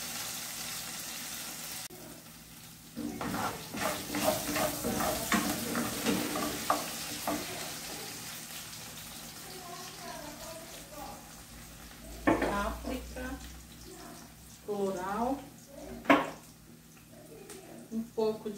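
Onion frying in a pan for meat pancake filling, with a soft, steady sizzle and occasional stirring and scraping of utensils while a person talks throughout.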